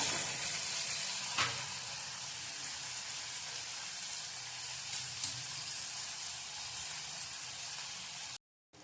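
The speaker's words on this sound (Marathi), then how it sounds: "टोमॅटो पण चांगला भाजलाय" Chopped tomato fries on low heat in a pan for egg bhurji curry, giving a steady close sizzle that persists throughout, with an occasional faint stir or scrape and a brief cut at the end.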